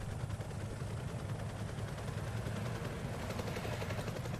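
A helicopter in the Call of Duty: Black Ops Cold War campaign gives a steady low rotor thrum and engine rumble, loud and close, running the whole time with no voices over it.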